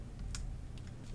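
Keys on a 2019 MacBook Pro keyboard pressed a few times, faint soft clicks over a low background hum.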